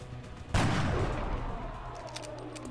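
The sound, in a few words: sniper gunfire in XCOM video game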